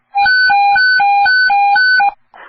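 Alert tone on Jersey City, NJ fire dispatch radio: a loud, clean two-pitch beep alternating about five times in quick even rhythm, then cutting off into a brief radio burst.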